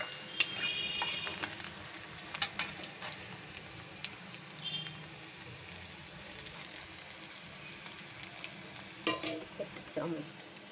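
Onion softening in a hot pan, with a continuous light sizzle and intermittent clinks and scrapes of a spoon stirring, close by and without voices.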